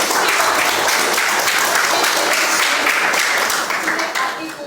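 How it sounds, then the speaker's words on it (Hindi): A group of young sports players applauding, a dense, loud burst of clapping that holds steady and then begins to thin out near the end. "एक बार फिर से तालियां अपने लिए।"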